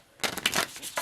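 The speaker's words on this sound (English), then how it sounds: "and shuffle and shuffle and shuffle each pile" A tarot card deck being shuffled by hand in piles, producing a close, continuous riffling and flapping of cards with a few brief pauses and no talking.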